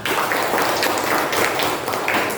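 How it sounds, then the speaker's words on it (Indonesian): Pupils in a school classroom clap together, a brief, dense and fairly loud burst of applause that runs without pause through the whole moment. "Ya, beri tepuk tangan untuk kita semua."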